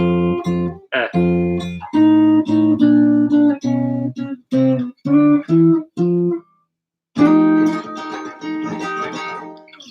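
A jazz guitar plays a blues ending in F, a string of clean, choppy chord stabs that descend in short rhythmic hits, a brief pause, then a final ringing chord left to decay.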